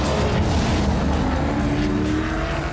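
A Mosler V8 and a Lamborghini GT race car roar past at Sandown in the Australian GT Championship, loud and close, engines droning continuously with a rising and falling pitch as they speed by.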